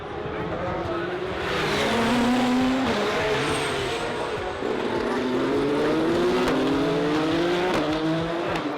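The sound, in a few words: race cars passing at night during 24 Hours of Le Mans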